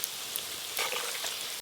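Onion fritters (piyaju) sizzling in hot oil, a steady close hiss and crackle of frying with a brief burst of louder spattering partway through, no voices.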